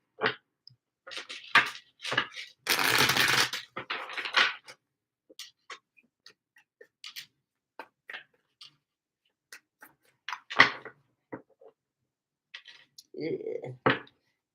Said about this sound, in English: 2 more shuffles for super chat questions